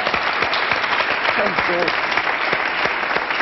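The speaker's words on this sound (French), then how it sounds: "on peut applaudir Philippe Guérin" A studio audience bursts into sustained, dense applause on a French television interview programme, loud and even from start to finish, with a brief voice faintly under it.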